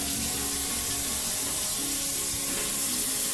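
A kitchen tap runs as a knife is rinsed under it, giving a steady, close rush of water with no voices.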